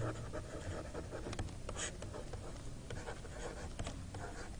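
Chalk or marker scratches across a board as a mathematical theorem is written out, a run of close, scratchy strokes and taps at an uneven handwriting pace over a faint room hiss, with no talking.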